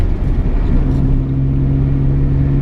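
A car with a J32 engine runs at idle after losing oil from a damaged oil cooler fitting, giving a loud, close, steady low hum and rumble with a faint whine.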